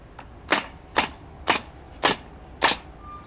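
A nail gun fires ballistic nail screws, 2 1/4 inches long, through AdvanTech subfloor into wooden joists: five sharp, loud shots about half a second apart, with quiet between them.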